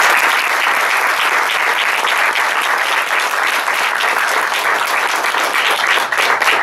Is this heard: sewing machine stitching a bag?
no